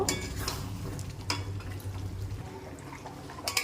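Mutton curry with potatoes, onions and spices being stirred and fried in a pan, with a steady low sizzle under soft scraping and a few sharp utensil clinks against the pot.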